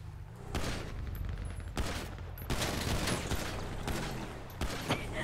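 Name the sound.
gunfire in the video game GTA roleplay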